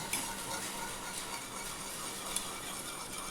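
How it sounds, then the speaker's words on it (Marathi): A spice tempering sizzles in hot ghee for spiced curd as a spoon stirs it, giving a soft, continuous frying hiss with a few faint clinks of metal. "तूप गरम झालं आता आपला आगे याच्यात टाकून देते आणि याला फिरवून घ्यायचं चांगलं"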